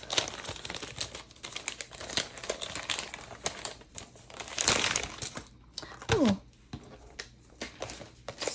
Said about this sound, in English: So I'm going to open this package. She's even got bug wrapping paper.